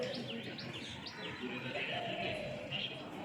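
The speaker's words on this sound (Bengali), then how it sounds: "গাছে কত পাখি এসে বসে, সারাদিন কত ডাক শোনা যায়" Several birds perched in a tree give repeated high chirps and short tweets, moderately close, over a steady bed of low background noise.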